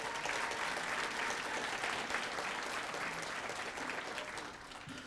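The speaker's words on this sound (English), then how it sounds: "why don't you give yourself a round of applause?" Audience at an awards night claps in a sustained, dense round of applause that holds steady and tapers slightly at the end, with no speech over it.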